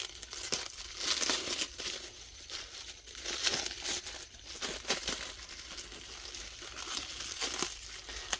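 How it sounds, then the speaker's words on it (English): Plastic and paper packaging around a freshly shipped bonsai tree being crinkled and torn open, close and busy with irregular rustling bursts and no talk. "Let's get it all unwrapped real quick."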